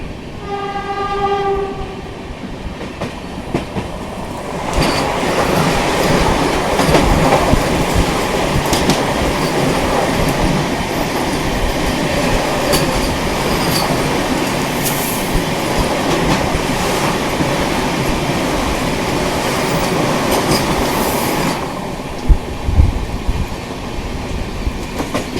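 The Anand Vihar–Bhagalpur Vikramshila Superfast Express sounds a brief horn, then rolls on with a loud, continuous rumble and rhythmic clickety-clack of wheels over rail joints, heard from on board with no talking.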